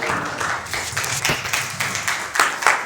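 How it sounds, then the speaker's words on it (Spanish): Audience applause at a book presentation event, a steady wash of clapping from a seated crowd, fairly loud and continuous without talk over it. "un fuerte aplauso"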